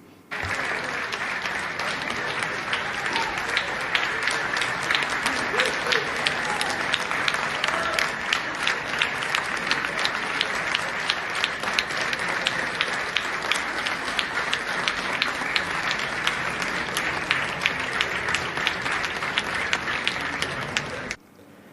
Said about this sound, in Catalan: Les actuacions van arrencar sonors aplaudiments després de cada peça